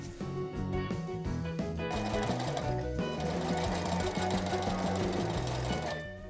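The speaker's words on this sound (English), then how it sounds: "Then I machined the Petersham in place down each side, following the stripes as a guide to keep my stitching straight." A sewing machine stitching a Petersham waistband onto slippery satin, a fast steady mechanical whirr and needle clatter running continuously with a brief slowdown, close up and alone.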